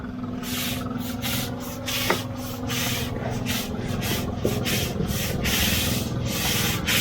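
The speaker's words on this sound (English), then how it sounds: "You want to scrub it and get all the way through the sealer so it rebonds to the concrete." A broom scrubs a sealed concrete floor wet with xylene, making repeated rhythmic rasping strokes, close and steady, with no talking.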